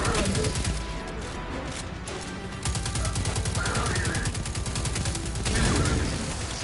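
Rapid bursts of weapon fire in the Destiny 2 Inverted Spire strike, including grenade launcher shots, crackle densely and loudly through most of the stretch, with brief dips between volleys and no talking.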